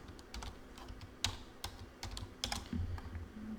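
Scattered clicks of someone typing on a computer keyboard, faint and irregular, a handful of separate keystrokes over a low background hum.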